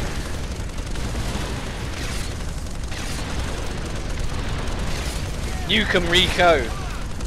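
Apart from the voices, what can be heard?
machine gun firing in Earth Defense Force Insect Armageddon video game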